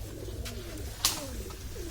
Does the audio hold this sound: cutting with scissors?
no